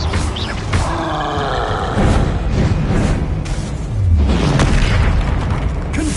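Confringo fire spell explosions in Hogwarts Legacy: a string of deep booming blasts, several loud bursts spaced a second or two apart over a rumbling, crackling background.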